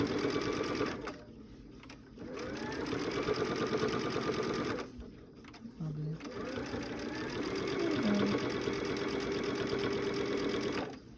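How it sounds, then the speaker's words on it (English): Close by, a sewing machine stitches binding along a quilt edge in long steady runs broken by two short pauses, while a person talks over the whirring. "I'm going to start on the edge and sew straight down."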